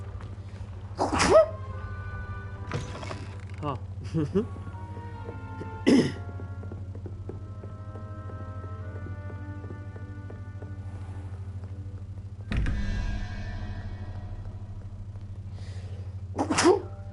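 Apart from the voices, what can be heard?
sneezing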